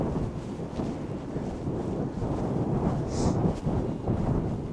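Strong wind gusts blowing across the microphone on Orre Beach during a walk, a loud, buffeting roar that rises and falls unevenly with no voices.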